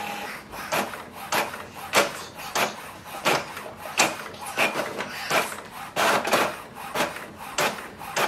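An HP OfficeJet Pro 9130e printer running a two-sided print job makes a steady series of mechanical clicks, rubs and paper-feed clatters in an irregular rhythm, close and fairly loud.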